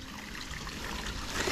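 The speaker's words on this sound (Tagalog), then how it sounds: "May tubig na ulit oh." Floodwater after a typhoon flows and trickles steadily through farmland with corn fields, a continuous soft watery babble close by with no talking.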